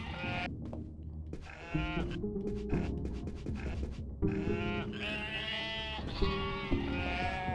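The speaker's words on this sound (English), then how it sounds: "There's sheep here." Sheep bleat repeatedly in the stealth game UnMetal, several wavering calls overlapping one another over steady game music and ambience, fairly close and continuous.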